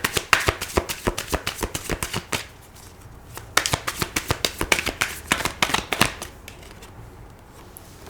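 Tarot cards being shuffled and drawn during a reading, a rapid run of crisp riffling slaps that pauses briefly, then resumes in a second burst of close, dry flicks.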